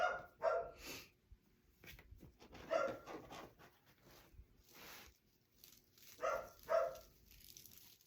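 Dogs upset after a hailstorm bark and whine in short, faint bursts spread through the clip, with yelps and whimpers between quieter pauses; no talking.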